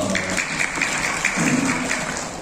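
Audience applause at a motivational gathering in Gorontalo, Indonesia, a steady wash of clapping throughout with some voices mixed in.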